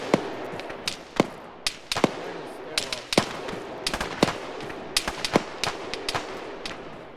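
Scattered gunfire in the military game Arma 3, with sharp single shots and short bursts cracking at irregular intervals over a steady rumbling background, some near and loud, others fainter and distant.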